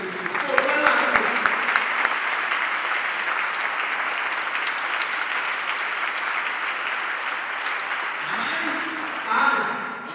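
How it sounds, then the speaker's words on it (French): A church congregation claps and cheers in acclaim of the Lord, broad sustained applause with voices mixed in, steady for most of the stretch before easing near the end. "On acclame le Seigneur."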